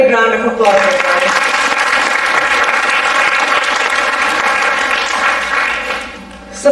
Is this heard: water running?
no